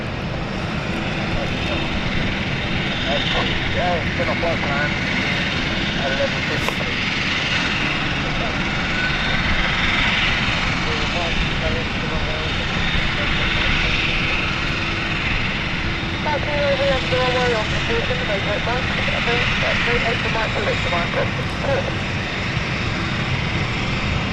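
A flight from Amsterdam comes in on final approach at London City Airport, and its engines make a continuous mid-distance drone that swells gently, with a voice speaking faintly underneath.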